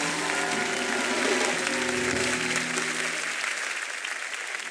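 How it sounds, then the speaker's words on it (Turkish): Studio audience on a live Survivor broadcast breaks into sustained loud applause, dense clapping that holds steady and then thins slightly toward the end, with no one speaking over it. "Buradan Acun Ilıcalı'ya ve oradaki herkese kocaman bir alkış."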